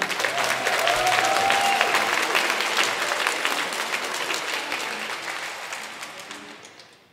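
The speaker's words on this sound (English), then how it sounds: "please give our loudest cheer to the Purple Symphony Piano Sextet" Audience applause and cheering after a piano sextet performance at the National Gallery Singapore, a dense, sustained wash of clapping from a crowd that gradually fades out.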